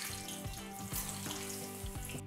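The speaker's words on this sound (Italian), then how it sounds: "possiamo cominciare a friggere il nostro yam" Yam pieces frying in a pan give a continuous sizzle and crackle, with occasional low clunks and knocks as they settle, and no one speaking.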